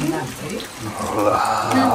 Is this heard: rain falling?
yes